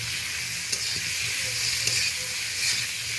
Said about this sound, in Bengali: পেঁয়াজ আর কাঁচা লঙ্কা ফোড়নের সাথে চিংড়ি মাছটা একসাথেই ভেজে যাবে